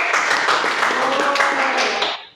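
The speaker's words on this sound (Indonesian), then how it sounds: "Tepuk tangan dulu" A classroom of students clapping together, a dense, loud burst of applause lasting about two seconds before cutting off abruptly.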